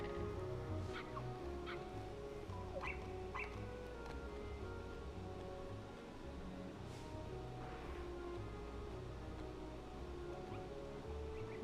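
Puppies in a cozy video game yip and bark in short, scattered bursts over a soft musical background, faint and intermittent through the scene.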